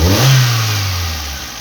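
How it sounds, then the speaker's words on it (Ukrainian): A Geely CK engine revs hard and unevenly, stumbling with misfires and popping backfires as the throttle is snapped open. The sound is loud and close, with no talk over it. "Якщо різко, двигун кидає, двигун підтраює, двигун підстрелює."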